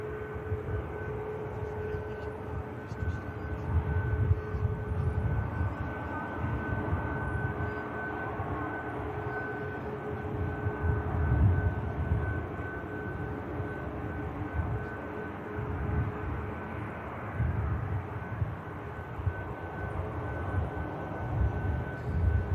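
A Boeing 737 Max 8 taxis at Manchester Airport, a low rumbling jet drone with a faint steady whine, heard from a distance and fluctuating gently throughout, with no voices.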